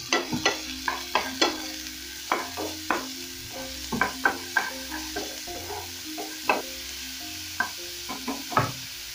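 Onions in hot cooking oil in a pan, with a steady background sizzle under a series of rhythmic tapping and scraping strokes as they are stirred, close by with no voices.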